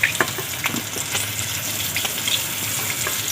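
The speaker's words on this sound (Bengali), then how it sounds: "তেলের মধ্যে দিয়ে দেবো তেজপাতা," Bay leaves hit hot oil in a pan for a rui fish curry, a sharp burst of sizzling and spitting with quick crackles up close, settling into a steady hiss.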